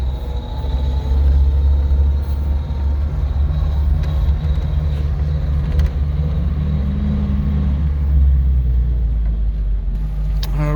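A 1956 Ford Anglia 100E on a test drive gives a steady, loud low-pitched drone of engine and gearbox with a faint whine riding on top, continuous and close throughout with no talking.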